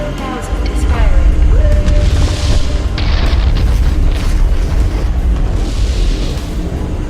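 The BFG 10,000 firing in Doom: a massive sustained rumbling boom with deep low-end roar and layered explosive bursts, loud and continuous for several seconds.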